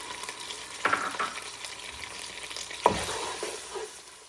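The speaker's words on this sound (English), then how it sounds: "Fry the onion for 3 minutes on high flame." Onion paste fries on high flame in a pan with black cardamom and cumin seed, a steady broadband sizzle that carries throughout, with two louder scraping stirs of a spoon near one second and near three seconds.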